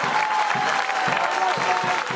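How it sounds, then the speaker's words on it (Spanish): A crowd at a Frente Amplio political rally in Valparaíso's Plaza de la Victoria applauds loudly and continuously, clapping with a few rhythmic pulses running through the dense, close wash of sound. "Fuerte el aplauso para el alcalde Jorge Sarp."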